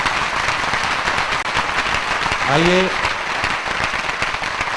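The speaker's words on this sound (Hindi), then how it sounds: "कविता खत्म करता हूँ, तालियां बजाइए।" Audience applause breaks out at a Hindi comic poetry recital, a dense burst of many clapping hands close by, with a brief voice and a short tonal cry rising over it midway.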